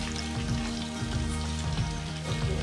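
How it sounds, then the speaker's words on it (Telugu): Spice paste for a chicken liver dish frying in a pan while being stirred, a steady dense sizzle with soft periodic scraping of the spoon, close and continuous with no talk. "పేస్ట్ వేసిన తర్వాత పచ్చివాసన పోయేంత వరకు ఇలా ఫ్రై చేసుకోవాలి"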